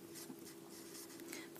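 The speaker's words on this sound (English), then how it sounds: "we can write in Drew sold" Pen or pencil writing an answer onto a math worksheet, a soft continuous scratchy stroke sound lasting under two seconds, close and quiet against a steady low hum.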